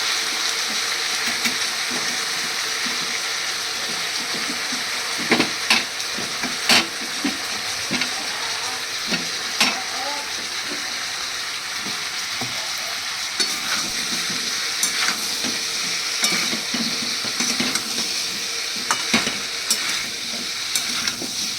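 Tomato quarters and potatoes fry in a chicken stew pan with a steady, close sizzle, while a spoon scrapes and stirs in irregular bursts throughout.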